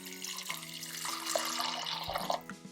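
Water runs and splashes into a metal pressure cooker for a couple of seconds, with a soft ringing clatter as it fills.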